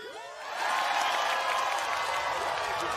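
A crowd in a Disney cartoon bursts into cheering and applause, a dense wash of clapping and voices that swells after a quiet start and holds at a steady, loud level.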